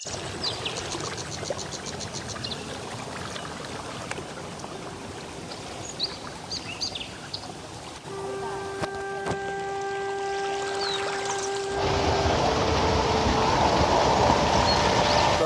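Water rushing steadily over a small village waterfall, a continuous broadband wash that swells noticeably louder partway through, with no voices over it.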